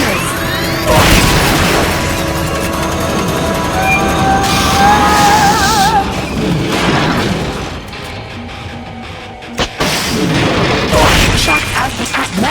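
Boosters firing in Metal Gear Solid Peace Walker: loud, sustained roaring thrust with mechanical clanks, crashing impacts and booms over a dense, busy game soundscape.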